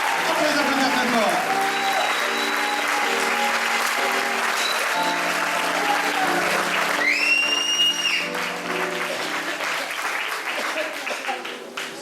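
An audience at an improv cabaret gives loud, sustained applause for the performers, with music and a voice running over the clapping before the ovation tapers off slightly near the end.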